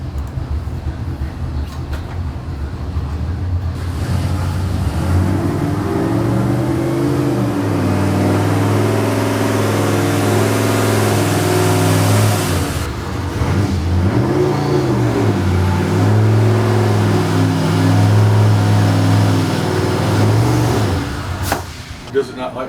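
A boosted car strains on a dyno through a 2,500 to 4,500 RPM pull, its engine droning loud and steady, climbing in pitch, easing briefly, then surging again before cutting off.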